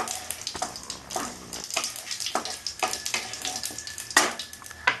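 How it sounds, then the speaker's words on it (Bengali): Cumin seeds splutter and sizzle in hot oil in a pan for a Bengali-style katla fish curry, a steady crackling fry with sharper pops scattered throughout, close and moderately loud with no talking. "আমার জিরাটা ফুটে গেছে"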